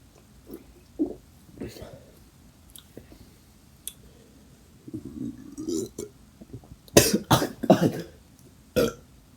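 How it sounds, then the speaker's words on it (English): Several loud, close burps after drinking soda, clustered in a quick run near the end, with a few softer throat and mouth sounds before them. "That's a pretty good burp,"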